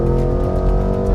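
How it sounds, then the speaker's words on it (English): Porsche Cayenne GTS sport exhaust, 2025 model, rumbling loud and close with a continuous engine drone and a few soft pops mixed in, no talking over it. "it gets you that sport exhaust, by the way, which is crackling and popping behind us and sounds amazing"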